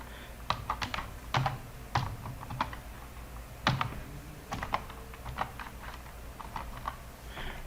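Fingers type a national ID card number on a computer keyboard, producing irregular clusters of crisp key clicks with short pauses between groups, close and fairly quiet, with no talking.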